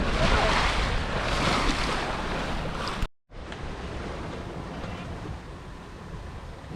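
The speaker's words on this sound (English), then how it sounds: "Lovely bit of wind." Steady wind roars across the microphone over rushing waves while a sailboat crosses open Caribbean water between Iles des Saintes and Dominica, with a brief cut partway through.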